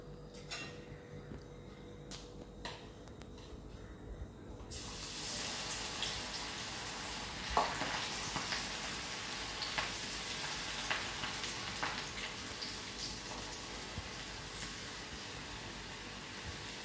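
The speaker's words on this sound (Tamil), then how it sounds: "ஸோ இப்போ வந்து எண்ணெய் வந்து ரெடியாக இருக்குது, நம்ம இதை உடனே போட்டு எடுத்துடலாம்." After a few quiet clinks, an evening snack hits hot oil in a pan, setting off a steady, loud frying sizzle that continues to the end, with occasional stirring knocks.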